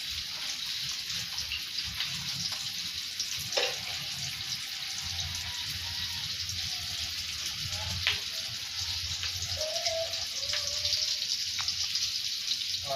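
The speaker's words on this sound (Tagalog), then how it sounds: "Ngayon, lagyan natin tubig." Water poured into a hot frying pan gives a continuous hissing sizzle, loud and close, with scattered clinks and bubbling, while someone speaks intermittently in the background.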